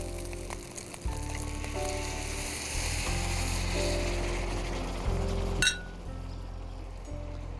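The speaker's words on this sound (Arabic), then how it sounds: "يمكن سامعين صوت الرز هلا كيف عم يتقلب" Rice for a Spanish paella sizzling and being turned in a hot pan, a steady frying hiss with scraping and clattering stirring strokes, close and loud without any talk.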